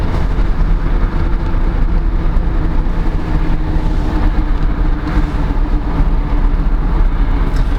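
Road traffic rolls past in a loud, continuous rumble of engines and tyres, close and unbroken throughout with no voices.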